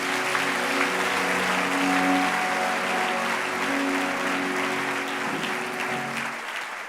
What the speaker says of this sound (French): Acclame Jésus pour toi-même.